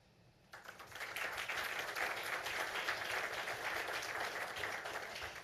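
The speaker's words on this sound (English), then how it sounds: "Let's give them all a round of applause" Audience at a Carrollton-Farmers Branch ISD school board meeting applauding students, a sustained round of clapping that starts abruptly and holds steady, moderately distant in a large room.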